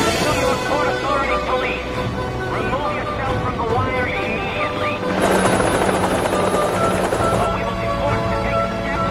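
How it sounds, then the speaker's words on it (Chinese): A police helicopter hovers close over a high-wire walker strung between the World Trade Center towers, its rotor a loud, steady thudding drone throughout beneath continuous narration, with music swelling near the end. "警方竟然又派来了一架直升机飞到了他的头顶。"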